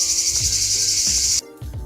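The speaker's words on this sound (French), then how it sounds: "avec les cigales on n'entendait vraiment rien" Cicadas drone outdoors in a loud, continuous high buzz that stops abruptly near the end, leaving only low background rumble.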